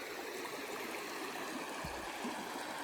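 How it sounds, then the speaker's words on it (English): A small river flows steadily in a close, continuous rush of water over stones, with one brief low thump partway through and no talking. "I made it to a nice little river."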